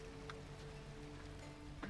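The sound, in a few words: rain falling in the video game Lightyear Frontier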